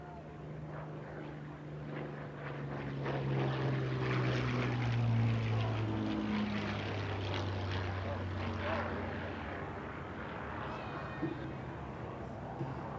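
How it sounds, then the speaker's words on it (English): A 1943 Curtiss P-40N WWII propeller fighter flies past at an air race in Roswell, its engine drone rising and fading with a Doppler sweep, loud at first, then receding into a distant rumble. "the Curtiss P-40 is making its way around."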